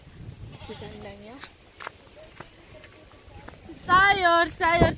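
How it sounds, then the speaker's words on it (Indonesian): Goats bleat in their pen on a village morning, a few wavering calls early on, then loud, close bleats toward the end, with a voice speaking faintly underneath. "masih kambing teman-teman di kandangnya."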